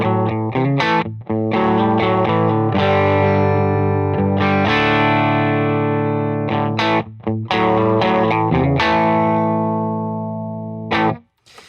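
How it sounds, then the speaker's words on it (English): Nash T63 electric guitar played through a Benson Amps Monarch reverb, ringing chords and single notes with a long reverb tail, loud and sustained, with short gaps between phrases and no talking. "I am running a Nash T63 into a Benson Amps Monarch reverb."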